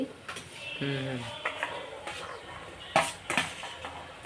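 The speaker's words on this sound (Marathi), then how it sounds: "कांदा टोमॅटो आता शिजायला टाकते" Onion and tomato going into a pan to cook as a base for chicken, with clinks of a utensil against the pan, stirring scrapes and a brief voice over faint background noise.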